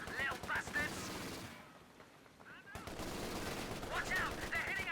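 Machine gun fire in a Company of Heroes 2 3v3 match on Port of Hamburg, heard as dense, loud bursts that stop briefly before resuming, mixed with other battle noise.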